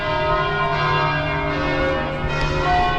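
Church bells ring from an old church in Ponte de Lima, Portugal, a steady sustained peal with layered ringing tones that carries strongly through the whole stretch, with no voices over it.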